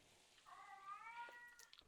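A house cat meows loudly and insistently in a drawn-out, wavering call, indoors and fairly near, with no talk over it.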